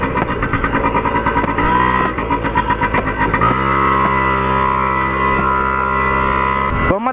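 A mini motorcycle circling a town square, its small engine droning loud and close with a steady buzzing tone that shifts pitch as it revs, continuous throughout.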